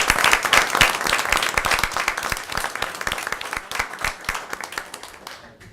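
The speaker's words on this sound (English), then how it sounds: "can we to give it them a round of applause?" A room of people at a Mt Airy town council meeting claps for the newly welcomed members. Dense, energetic applause runs for several seconds and then tapers off to silence.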